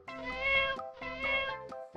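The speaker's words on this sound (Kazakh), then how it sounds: "мені мұнда тастамай ала кетіңдерші, деп өтінгендей жалына мияулайды" A cat meows plaintively up close in two long, drawn-out cries, and a third cry starts just as the sound ends. Nothing else is heard.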